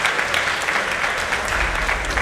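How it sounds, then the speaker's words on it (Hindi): Audience applause fills the hall at the Oxford Union, a dense, steady clapping from a seated crowd that runs throughout without a break. "ऑक्सफोर्ड यूनियन में बैठे सभी मजहबों के एक्सपर्ट ने तालियां बजाई"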